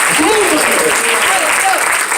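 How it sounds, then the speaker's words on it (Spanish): Church congregation applauding during a Spanish-language worship service, loud sustained clapping with voices mixed in throughout. "Fuerte ese aplauso a ese Cristo sabio."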